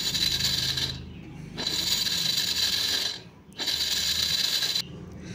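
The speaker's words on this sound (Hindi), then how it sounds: "कॉफ़ी ग्राइंडर में पीस लें या ग्राइंडर जग में भी डाल के आप पीस सकते हैं।" An electric coffee grinder runs in three steady whirring bursts with short pauses between them, grinding a hard spice mix containing long pepper for dahi bara masala.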